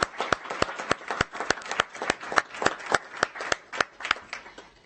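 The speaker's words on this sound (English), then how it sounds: "Can we please give a round of applause for this amazing community organization?" Clapping at a school board of trustees meeting for a community organization: sparse, evenly spaced claps from a small group, each crisp and distinct, with no talk over them.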